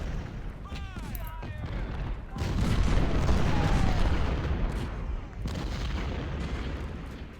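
Civil War battle in a strategy video game, with distant booming artillery and scattered rifle fire rolling over a noisy battlefield backdrop, some brief whistling sounds early on.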